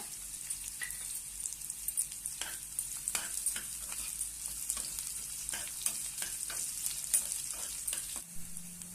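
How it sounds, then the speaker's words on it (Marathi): Sliced onion and curry leaves sautéing in a pan, a soft continuous crackling sizzle punctuated by repeated scraping stirs of a spatula, close but fairly quiet, without voices. "छानपैकी आपण आता हे परतून घेऊया कांदा। यामध्ये थोडासा कढीपत्ता"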